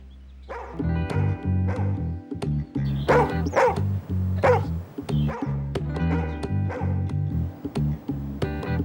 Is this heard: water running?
no